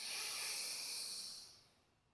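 A single long, deep inhalation during a yoga breathing exercise, a close, airy hiss that holds steady and then fades as the breath fills.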